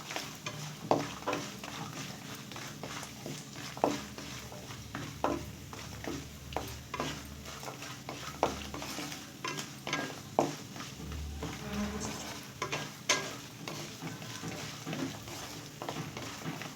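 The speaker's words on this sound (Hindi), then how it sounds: "इसी में हम बाकी ड्राई फ्रूट्स को भून लेंगे" Dry fruits roasting in ghee in a pan, with a spoon scraping and stirring in irregular taps and scrapes over a soft, low sizzle, close and fairly quiet, no voices.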